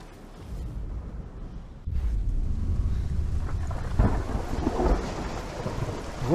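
Rain falls in Hellblade: Senua's Sacrifice, a soft hiss that swells into a heavier downpour midway, with low thunder-like rumbles rolling underneath and no voices.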